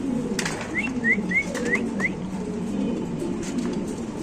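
Soft pigeon coos and short chirpy calls rise over a steady low rumble of background noise, close by and moderately loud, at a pigeon sale including an Indonesian pigeon.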